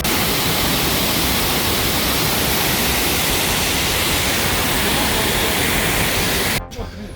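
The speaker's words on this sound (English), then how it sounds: "Just hit the 3rd waterfall." Steady, loud broadband roar of a waterfall on a Costa Rica jungle hike, filling the whole stretch evenly before cutting off abruptly near the end.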